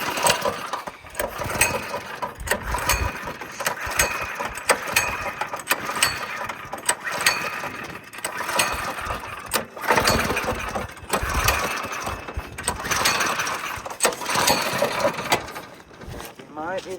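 A small go-kart engine idles and runs unevenly while warming up, a rough rattling putter with mechanical clatter throughout, close by, with people talking over it at times.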